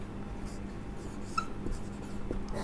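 Pen scratching across paper in a quiet room, soft continuous strokes over a low steady background hum, with one small click partway through and no talking.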